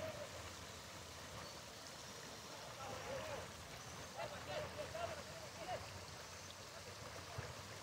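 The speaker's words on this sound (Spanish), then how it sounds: "Con el sonido del río Cañaveralejo" Steady broadband rush of the Cañaveralejo river flowing through Santiago de Cali, a continuous even wash of water at moderate level with some faint voices and distant activity mixed in beneath it.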